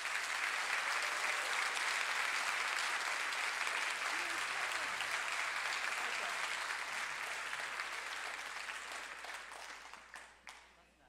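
An audience at a school band concert gives sustained applause for student letter winners, a dense steady clapping that carries at full strength for most of the stretch before thinning out and fading near the end.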